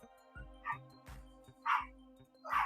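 A small dog barks in short yips, several separate bursts over a few seconds, heard alone at moderate loudness with no talking over it.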